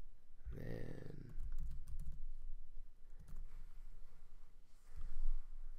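Quiet typing on a computer keyboard: a soft run of key clicks with an uneven rhythm, close by, beneath a low background hiss.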